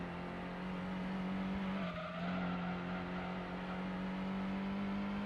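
A race car engine in a video game hums at a low, steady drone, dipping briefly as the revs sag too low before settling back into a constant low growl.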